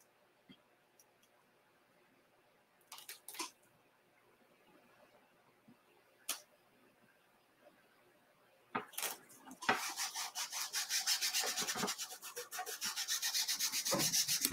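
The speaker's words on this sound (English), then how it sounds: "I'm going to lightly burnish here where my teal is." Quiet scattered taps and shuffles, then a steady close rubbing and scraping as a tool burnishes a rub-on transfer onto a surface, growing louder and continuous toward the end, no talking.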